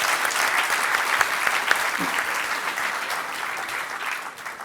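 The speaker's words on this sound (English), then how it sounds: "Could I get a round of applause, please," An audience at a talk on phone phreaks applauds the Harvard Five with dense, steady clapping that holds evenly throughout.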